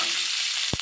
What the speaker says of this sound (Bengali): এবারে পেঁয়াজটা ভালো করে ভাজা ভাজা করে নেব।